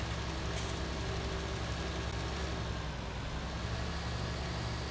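A tractor engine idles in the farming video game Farming Simulator 19, a steady low mechanical drone that continues unchanged and fairly quiet for about five seconds with no talking.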